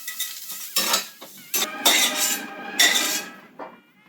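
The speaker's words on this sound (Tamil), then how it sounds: "இப்போ நல்லா இந்த பிரண்டை வதங்கிடுச்சிங்க." Pirandai (adamant creeper) being sautéed with salt in a pan, with sharp scraping and clinking of a metal spoon against the pan in separate strokes over a faint sizzle.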